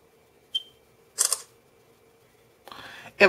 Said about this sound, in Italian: E vado a fare la foto.